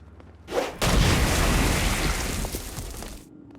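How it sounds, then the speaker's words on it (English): In the video game Saints Row: Gat out of Hell, a pistol shot shatters a petrified demon, giving one loud booming blast that fades away over a few seconds. "After they're petrified, you can use your pistol to shatter them."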